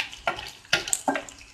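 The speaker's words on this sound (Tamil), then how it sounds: "இந்த வெங்காயத்தையும் நல்லா வதக்கிக்கணும்." Onions for an egg pepper fry sizzle in a hot pan as a utensil stirs them in three quick scraping strokes, close and fairly quiet.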